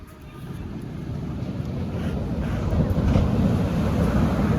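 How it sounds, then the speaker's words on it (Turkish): Sea waves wash steadily during a winter-holiday boat trip off Antalya, a continuous low rumble of water mixed with wind buffeting the microphone, growing slightly louder over a few seconds with no one talking. "dalgaya bak Almina"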